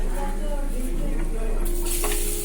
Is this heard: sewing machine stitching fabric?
no